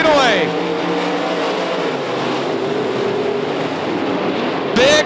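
Modified race cars roaring around the dirt oval at Knoxville Raceway, a loud, sustained engine drone close by with pitch sweeps as cars pass, under an excited announcer's commentary.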